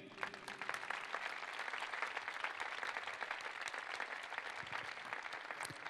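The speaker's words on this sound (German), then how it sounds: "Nochmal einen kräftigen Applaus für John Guidetti" Applause at a player farewell ceremony for footballer John Guidetti, a crisp, dense and steady round of clapping from a sizeable crowd, fairly quiet and continuous throughout.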